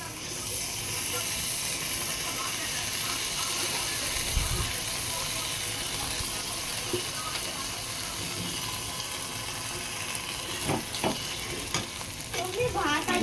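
Bitter gourd stuffing masala is stirred and mixed in a pan with a steady low sizzle and scraping, and a few sharper clinks and scrapes come toward the end.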